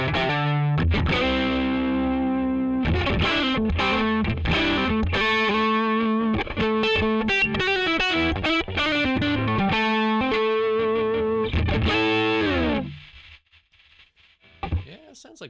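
An electric guitar played through the Neural DSP Archetype: Tim Henson amp plugin with a straight dry tone: a loud, busy run of picked notes and chords for about 13 seconds, then cutting off abruptly.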